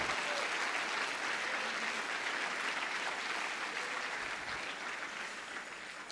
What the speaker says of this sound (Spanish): Alguien le tiene que dar un aplauso al Señor en esta hora.